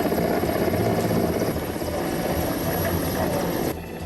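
A rescue helicopter hovers over a flooded river, its rotor and engine roar loud and steady throughout, dropping slightly in level near the end.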